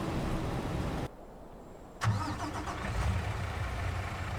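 Lorry engine starting in Farming Simulator 25 on a forest farm map, a sharp ignition catch followed by a steady medium engine idle rumbling close by, no talking.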